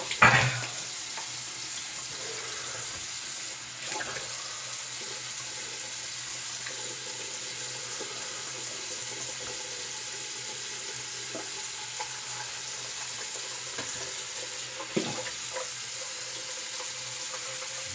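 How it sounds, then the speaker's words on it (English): Cold water runs steadily from a tap for rinsing during a shave with a Rockwell safety razor, a continuous close hiss and splash into a sink with a couple of brief clunks. "So cold water rinse here."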